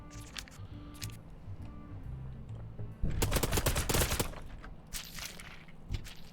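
Shotgun and gunfire in the video game Blacktrace, heard as a dense rapid burst of loud shots in the middle, preceded by quieter clicks and tones and followed by a few scattered shots.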